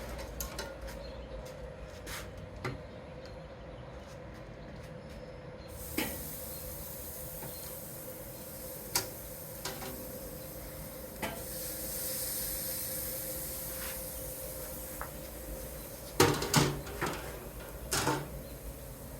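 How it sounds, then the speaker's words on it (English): Bone-in ribeye steak and ribs sear on the hot side of a grill, giving a steady, moderate hiss with occasional sharp clacks and knocks, and a louder clatter near the end. "gonna throw this on the hot side to get that nice sear going"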